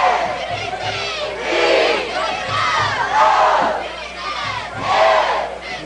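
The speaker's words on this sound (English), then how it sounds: "They're getting the crowd pumped up." High school football crowd, pumped up by cheerleaders at a night game, shouting and cheering in rhythmic waves that rise and fall several times, loud and close, with no clear speech.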